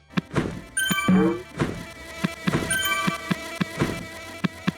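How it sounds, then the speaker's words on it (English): Dense insect-like buzzing and whining from creatures in a British garden-themed video game, with sharp repeated clicks and ticks scattered through a busy, overlapping layer of game noise, and no talking. "Horrifying garden creatures, overwhelming buzzing"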